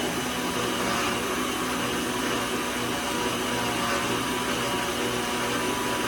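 Blender pureeing pumpkin, a loud steady motor whir with churning texture running continuously without pause and no talk over it.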